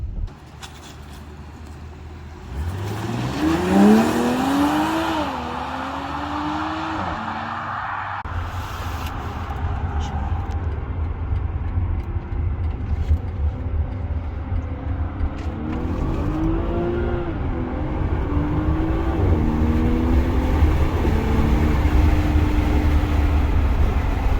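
A BMW X5 G05 40i accelerates through its gears and then cruises on a highway, engine pitch rising in steps over steady tyre and road roar heard from inside the cabin.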